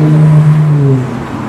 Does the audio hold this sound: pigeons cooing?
no